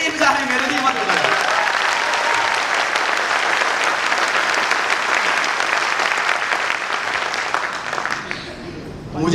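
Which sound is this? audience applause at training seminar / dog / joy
audience applause at training seminar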